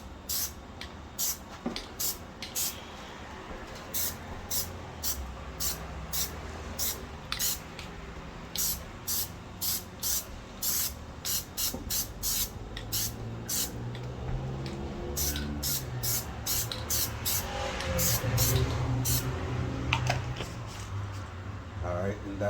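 Short hissing bursts of Plasti Dip spray on a Dodge Durango roof AC vent repeat in a quick, regular rhythm, close by, with a voice speaking underneath.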